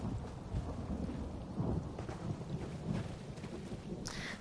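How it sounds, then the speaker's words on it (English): Rain pours steadily in The Elder Scrolls Online, with low, rolling thunder rumbling underneath for several seconds and a brief brighter crackle near the end, all without speech. "I really love the weather when it rains in this game"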